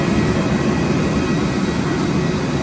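Jet airliner engine roar just after landing, a loud steady broadband rumble and hiss that stays close and continuous throughout, with no voices over it.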